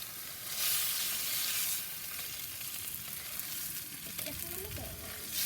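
Steaks sear on a hot soapstone slab on a Big Joe kamado grill with a loud, continuous hiss that swells early and then settles, with a few faint clicks near the end.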